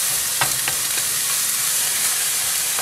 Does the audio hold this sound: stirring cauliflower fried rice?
yes